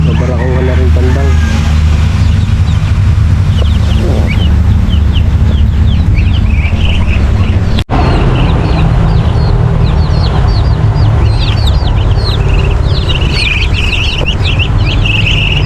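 Chickens clucking repeatedly at close range, busy overlapping calls over a low background rumble, with a person talking through part of it.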